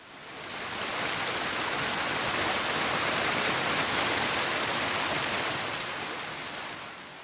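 River water flowing steadily in the video game Scum, a broad, even rushing wash that holds at a constant level throughout, close and alone.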